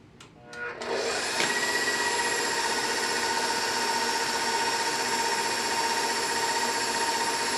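An electric stand mixer whirs up to speed after a couple of clicks and then runs with a steady, loud, tonal whine as it beats red velvet cake batter, close and continuous with no talk.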